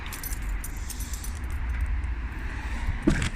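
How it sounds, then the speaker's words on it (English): Keys jangle close by as a Mazda RX8 is locked, a continuous metallic rattle over a low background rumble, ending in a short, sharper clack. "and I've locked the car again"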